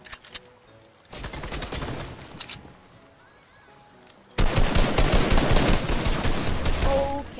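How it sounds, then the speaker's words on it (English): Gunfire crackles in the battle royale game Fortnite: a rapid burst, a pause, then a louder sustained volley of automatic shots, close and intense. "Jeez, I'm getting shot at."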